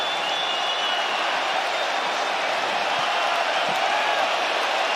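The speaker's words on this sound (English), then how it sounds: "A standing ovation from the capacity crowd in Perth, Western Australia." Capacity crowd at UFC 284 in Perth, Western Australia gives a standing ovation after the Islam Makhachev vs Alexander Volkanovski fight: a dense, steady wash of applause and cheering that holds at an even, loud level throughout.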